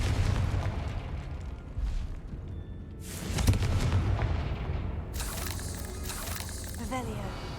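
Confringo spell from Hogwarts Legacy blasting a web-strewn area, rumbling booms with crackling bursts at the start, around three seconds and again past five seconds, under a dense game soundscape.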